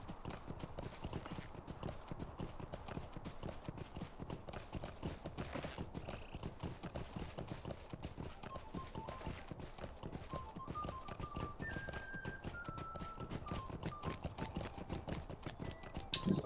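Steady, rhythmic clip-clop of a horse's hooves as a rider travels in the online game Lord of the Rings Online, continuous and close over a quiet musical backdrop.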